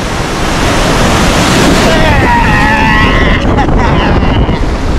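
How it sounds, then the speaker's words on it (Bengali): Large sea waves break and wash onto a crowded beach, a steady loud roar of surf with rushing water and wind buffeting the microphone, and people's voices faintly mixed in. "বড় ঢেউ আসছে"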